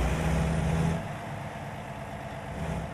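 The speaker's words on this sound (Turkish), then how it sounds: "Burada sevmediğim tek şey ATS'de kamyonların çok fazla gürültülü olması." A Volvo truck engine in American Truck Simulator drones steadily on a rough road in Mexico, loud and close at first, then settling to a lower, even rumble.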